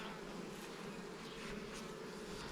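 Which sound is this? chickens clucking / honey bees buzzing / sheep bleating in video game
honey bees buzzing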